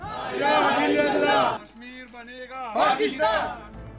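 Protesters at a rally in Khyber chant slogans of solidarity with Kashmiris, loud massed voices in two surging bursts separated by a quieter stretch with a single voice leading.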